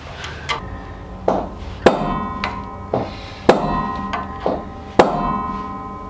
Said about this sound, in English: There's more than one place to peen this, so I'm going to do it in both places.